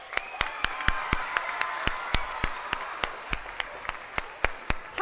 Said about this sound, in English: Let's give a huge round of applause for Mike.